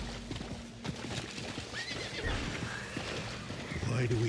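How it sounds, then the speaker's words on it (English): A horse in the Diablo IV video game neighs and whinnies while its hooves clip-clop in a quick rhythm nearby. Game ambience sits underneath, and a short low tonal swell comes in near the end. "Horsey, come back."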